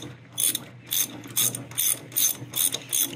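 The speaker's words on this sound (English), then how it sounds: "you can take two nuts and lock them to each other, and that'll allow you to drive that in, or use a ratchet" A hand ratchet clicks in seven or eight quick even strokes, driving a stud into a TYM 2515 tractor, close and clear with no talk.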